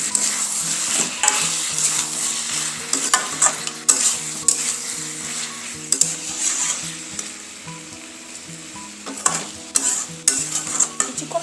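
Chicken with spices, salt and fried potatoes is stirred and sautéed in a pan, with continuous close sizzling and a spatula scraping and knocking on the pan at an irregular rhythm.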